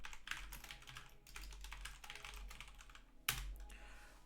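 Steady typing on a computer keyboard, entering input into a running program: a continuous quick patter of key clicks, close and clear, ending in one sharper keystroke, with no voices.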